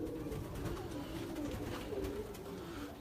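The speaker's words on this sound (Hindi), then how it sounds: "ये रामपुरी कबूतर है और ये मादा है।" A female Rampuri pigeon coos in soft, low repeated calls over a steady background hum, close but fairly quiet.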